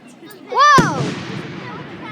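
A firework bursts outdoors with a sharp crack right after a rising whistle, followed by a decaying crackle; excited voices sound around the blast.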